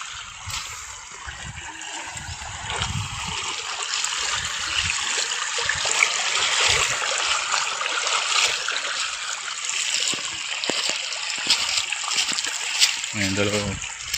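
Freshwater flows and trickles steadily near the seashore in Sogod, Southern Leyte, a continuous close hiss of running water with occasional splashes, while people talk over it.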